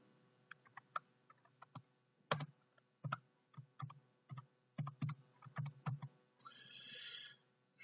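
Someone types an address on a computer keyboard in Word: irregular close key clicks in short bursts, quiet and isolated, ending with a brief softer rustle.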